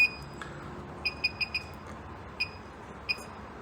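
An ozone machine's timer is set for odour removal inside a Ford Galaxy car. A series of short, high electronic beeps sounds with each button press: a quick cluster of four, then two more spaced apart, all fairly close.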